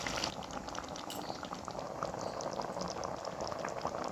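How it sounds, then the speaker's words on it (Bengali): Water from a bowl bubbling and simmering in a pan of ridge gourd and potatoes for a poppy-seed curry, a steady close liquid boil with no talking. "এখন আমি এক বাটি জল দেব।"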